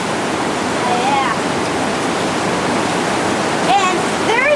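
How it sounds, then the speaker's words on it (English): Broadband roar of a raging creek swollen by floodwater, tributaries pouring in at a flooded camp, steady and loud throughout, with faint whistling bird-like chirps rising briefly near the start and end. "We've got creeks that are little tributaries that are feeding in, and they are just raging."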